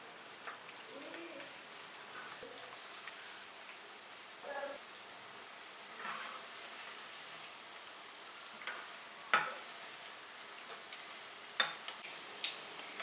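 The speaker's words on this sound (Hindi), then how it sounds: "ऑयल गर्म हो गया है, अब इसमें ये बैटर डालेंगे और पकोड़े बनाएंगे" Keema pakora batter sizzles and crackles in hot oil, a steady fine hiss with scattered sharper pops and spatters, moderately close and fairly quiet with no talking.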